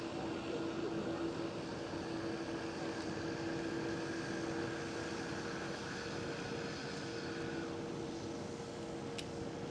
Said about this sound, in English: runway 36 right is also not bad for the arrival of the A380